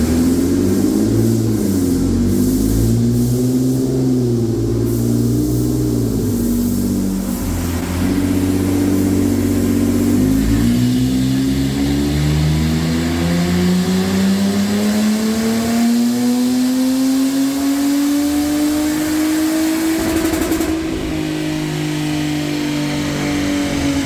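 A Kia Cadenza with its catalytic converter removed revs hard on a dyno, engine note sweeping up through long loud pulls and settling back before climbing again, close and constant with no talk.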